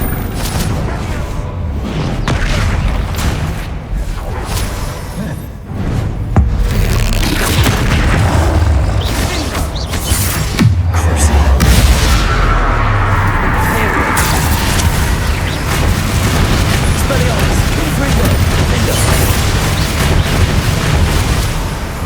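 Repeated Confringo fire-spell explosions in the Hogwarts Legacy video game, loud booming blasts and crashes one after another amid combat noise, under shouted spell incantations.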